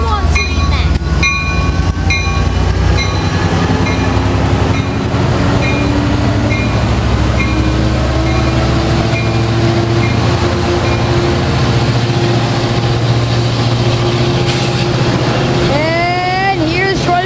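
A Coaster commuter train led by an F59PHI locomotive rumbles past steadily with a low droning engine and rolling wheel noise, loud and continuous, with a rising whine near the end.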